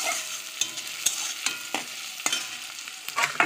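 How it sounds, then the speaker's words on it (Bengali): Onions with cloves, cardamom, cinnamon, bay leaf and cumin fry in oil under a soft sizzle, punctuated by sharp, regular spoon scrapes and taps against the pan roughly every half second. "এবার এটা নাড়তে থাকবো।"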